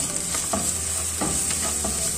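Onion-tomato paste with garam masala sautéing in a pan for chana masala, a steady close sizzle with a few scraping stirs of the spoon, no voices.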